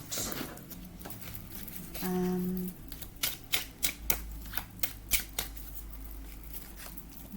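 A deck of cards is riffled and snapped together in a quick series of crisp flutters and taps, close by, with a brief hum underneath.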